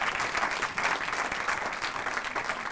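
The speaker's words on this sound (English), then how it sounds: "please join me in calling upon Dr. Craig and to give him a round of applause" Audience at a university awards ceremony clapping continuously, a dense, steady patter of many hands at moderate level with no voices over it.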